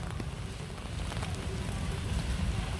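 Rain falls steadily on a Philadelphia street, a dense even patter of drops hitting the pavement and surfaces nearby, constant and fairly loud with no voices.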